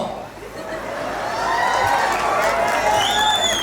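Live crowd at a Himachali comedy show during Baijnath Shivratri, a broad wash of applause and scattered laughter swelling and holding steady, with some cheering mixed in.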